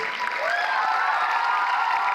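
Audience applause fills a hall at a dance school graduation performance, steady and sustained clapping from a large crowd throughout, with a faint cheer rising over it.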